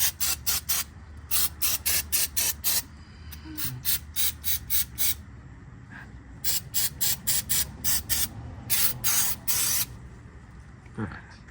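Brake cleaner sprays from an aerosol can during an oil change. About two dozen loud, sharp hissing bursts come in quick groups, each lasting a fraction of a second, with short pauses and faint background noise between them.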